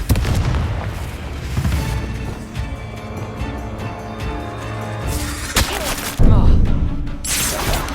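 A Confringo fire spell explodes in the Hogwarts Legacy video game, deep booming blasts and crackling bursts in a loud battle mix, with a sharp impact near the end and voices shouting spells.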